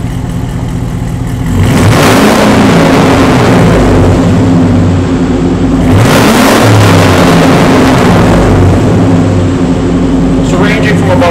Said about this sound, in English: We're gonna rev it up a couple times now.